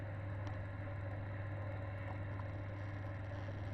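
A Silca Duo key cutting machine running idle, producing a faint, steady low motor hum with an even whir and no change in level throughout.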